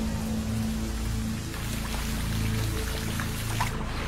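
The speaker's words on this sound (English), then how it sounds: "Over the next few days, the rains appear with more frequency." Steady rain of the rainy season falls throughout, a continuous hiss of drops on surfaces with a faint low tonal hum running beneath.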